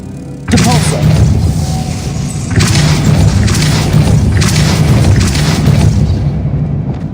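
The Depulso spell strikes in Hogwarts Legacy with a loud, booming impact, followed by heavy rumbling thuds and crashing surges that roll on for several seconds.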